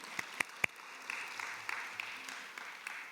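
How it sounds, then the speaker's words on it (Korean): Applause rises in a church congregation, opening with a few loud, separate claps before a soft, scattered patter of hands that sounds somewhat distant and stays fairly faint. "성령 하나님께 영광의 박수 올려드려야 돼요."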